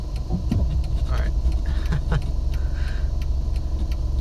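Cars roll slowly through a parking lot as the listener waits inside a vehicle, with a steady low engine rumble and a few passing swishes under faint background movement.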